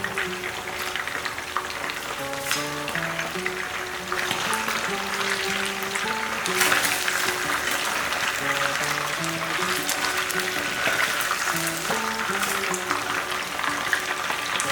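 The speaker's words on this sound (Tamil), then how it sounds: "பார்த்தீங்கன்னா சிக்கன் வந்து இந்த அளவுக்கு நல்லா பொரிஞ்சால் போதும்." Chicken pieces frying in hot oil give a steady, dense sizzle that runs unbroken throughout, with light music playing underneath and no talking.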